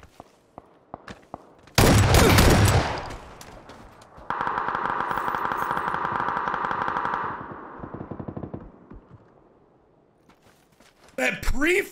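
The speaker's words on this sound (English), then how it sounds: "He's sniping him with an AUG." Rapid automatic fire from an AUG rifle in the battle royale game PUBG: a sustained, dense burst of shots at moderate loudness, with louder voices talking before it and again at the end.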